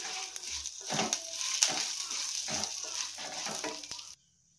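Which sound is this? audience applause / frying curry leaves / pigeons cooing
frying curry leaves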